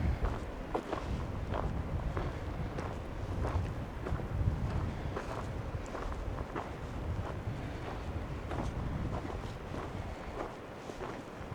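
Footsteps crunch steadily along a dirt road in Montana, close to the microphone, with gusty wind buffeting underneath throughout.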